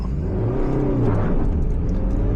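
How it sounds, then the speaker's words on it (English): A manual car's engine revs hard as the clutch is released quickly, and the wheels spin. The roar is close and steady for a brief moment and has no talk over it. "At that point, I brought my clutch up so quick that I actually wheel span it."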